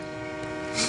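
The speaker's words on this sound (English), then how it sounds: "The train's going to be here any minute." An approaching train sounds a sustained, layered horn tone that swells slightly louder toward the end of a very short moment.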